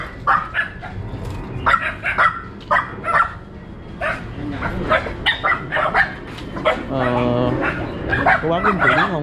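Dogs bark repeatedly near a cemetery in Saigon, loud and close with yips and whimpers mixed in, while people talk over them throughout.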